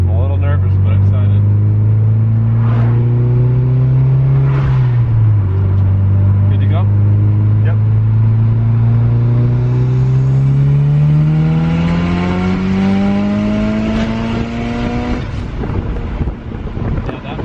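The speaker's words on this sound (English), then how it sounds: "So we're gonna full send and see what this turbo can do." Tuned 500 hp Mitsubishi Evo with its turbo at full boost, engine note rising steadily through the revs in a long loud pull with wind buffeting, a brief dip partway through, and someone talking over it.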